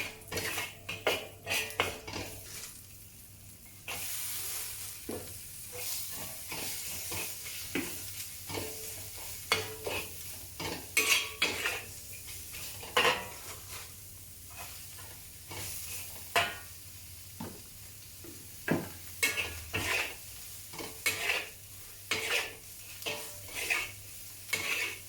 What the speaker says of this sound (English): Then add the carrots and part of the cabbage and turn up the heat to stir fry.